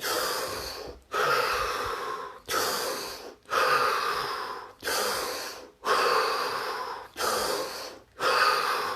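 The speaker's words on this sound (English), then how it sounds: "5 deep breaths followed by 30 seconds of absolute stillness and silence." A person taking a series of deep breaths, seven or so long, loud, rushing inhale-exhale cycles repeating in a steady rhythm at close range, with no talking.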